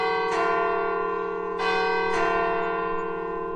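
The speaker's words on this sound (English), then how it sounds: "The tremors of the bell vibrated through the halls" A deep church bell tolls steadily, its long ringing hum sustained throughout, with fresh strikes sounding three times at uneven intervals.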